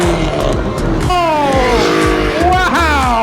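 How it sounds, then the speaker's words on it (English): A classic 1980s sports car races on the Brands Hatch circuit, its engine loud and close, shifting up through gears with rising whines, while tyres squeal and people talk excitedly over it. "That is a proper old school 80s sports car."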